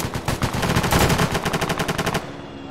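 Sustained automatic gunfire from a military shooter game set in Arma 3, dense overlapping bursts and rapid shots rattling loudly for about two seconds before cutting off abruptly.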